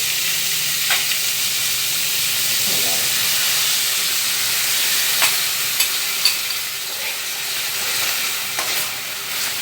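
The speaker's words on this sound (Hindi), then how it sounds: "इसको बिल्कुल हल्का सा फ्राई करना है, ज़्यादा नहीं करना, बस ज़रा सा मिक्स करना है इसको, ऐसा फ्राई करना है।" Mutton fries in a pan with a loud, continuous hissing sizzle, broken by a few soft stirring knocks and scrapes close by.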